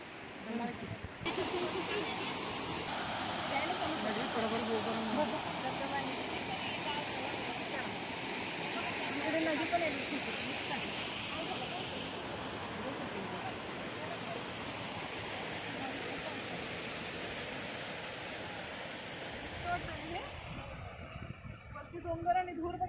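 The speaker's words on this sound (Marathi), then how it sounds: "इथे आहे छोटे छोटे धबधबे मस्त मस्त आहेत ना" Small waterfalls near the Hiranyakeshi temple at Amboli rush in a steady, even hiss of flowing water that carries on unbroken for the whole stretch.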